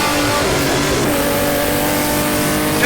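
BMW M1 race car in the rFactor DRM Revival racing sim, its engine holding a loud, steady high-revving drone with harmonic whine throughout, briefly lifting on an upshift, close-up in-car perspective with no talk.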